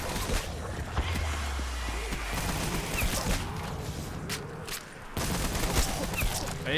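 Dense, continuous gunfire from an AA-12-style automatic shotgun in a Call of Duty zombies video game, a sustained crackling barrage with scattered louder bursts throughout.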